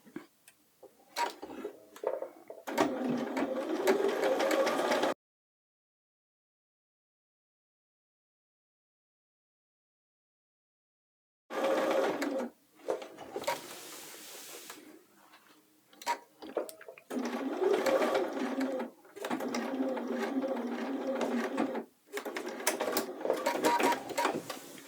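A sewing machine back stitches a pant seam in reverse, running in several rapid, steady bursts of close mechanical ticking separated by pauses and a long silence.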